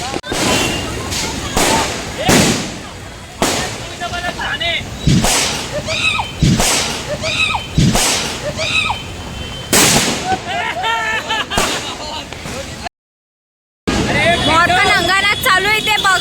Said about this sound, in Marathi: फटाके बघा काही माल आहे